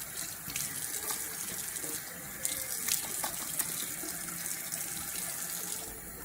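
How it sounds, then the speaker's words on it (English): Water runs steadily from a bathroom sink tap as a face is wetted, a continuous close splashing hiss with small irregular splatters throughout. "So I'm gonna wet my face now."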